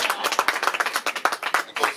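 Scattered applause from an audience at an outdoor event in the rain, many quick overlapping claps forming a steady, moderately loud patter with no voices on top.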